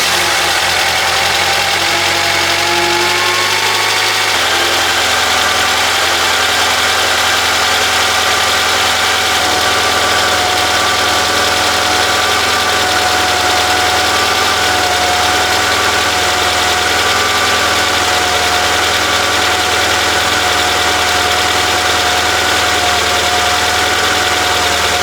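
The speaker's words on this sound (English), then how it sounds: "I'm going to turn on the car just for a short period" A Honda Prelude engine runs at a steady idle, a constant low rumble with a slight change in tone a few seconds in, with no voices.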